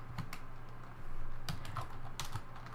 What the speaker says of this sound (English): we're going to type print